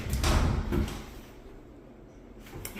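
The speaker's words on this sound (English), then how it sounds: "I have sliding door closet here." A sliding closet door in a bedroom rolls open on its track, a short rumbling slide and bump up close, followed by quieter room tone.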